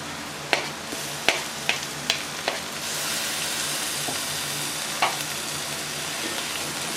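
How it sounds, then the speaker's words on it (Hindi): Green chillies fry with ginger and garlic in a pan for bhindi fry, a steady close sizzle broken by several sharp spoon taps against the pan, with no talk. "हरी मिर्चें अच्छे तरीके से फ्राई हो चुकी हैं।"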